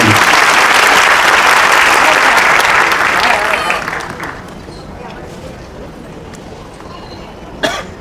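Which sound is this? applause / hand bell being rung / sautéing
applause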